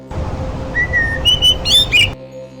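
An injured bird gives a run of clear, rising whistled chirps, several short calls in a row, loud and close over a low steady hum, then breaks off abruptly.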